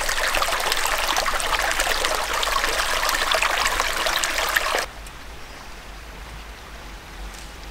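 Corduroy Creek, a small canyon stream meeting Fish Creek, gives a steady broadband rush of flowing water that drops sharply quieter midway, then continues as a softer, even trickle with no talk.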